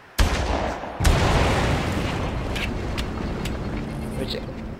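Barrels exploding amid gunfire in the first-person shooter Far Cry: two sharp, loud blasts followed by a rolling rumble and scattered shots, with a voice talking over the action.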